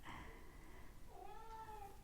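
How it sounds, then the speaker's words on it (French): A domestic cat meows twice behind a closed door, a short call followed by a longer, rising and falling one, fairly clear against a quiet room. "C'est mon chat."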